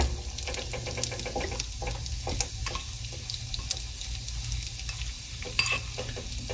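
Asafoetida and spices sizzle in hot oil for a Bengali Radhaballavi dum aloo, a steady crackling fry with soft clicks and stirring, close and moderately loud with no talk.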